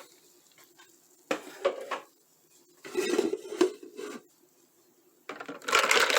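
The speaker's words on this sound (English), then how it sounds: "We're going to put in some ice." Ice cubes clatter into a container of sweet tea in three separate bursts of clinking and rattling, each lasting about a second, with quiet pauses between and a final noisy tumble at the end.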